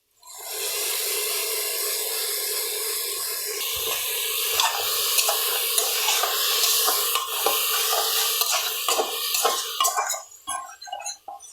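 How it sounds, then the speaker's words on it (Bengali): Ginger garlic paste sizzles loudly in a pan as it is stirred into chickpeas, with a constant hot fry hiss broken by scraping stirs that fade toward the end. "এখন দিয়ে দেব আদা রসুন পেস্ট।"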